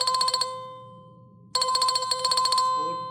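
A live chat call ringtone plays on a WordPress website: a bright, rapidly pulsing electronic ring sounds in two bursts separated by a pause of about a second.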